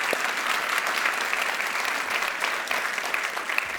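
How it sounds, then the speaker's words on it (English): Warm, continuous applause from the audience at a ballet masterclass welcoming two principal dancers, a steady even wash of many hands clapping at once without talk. "Give a big round of applause"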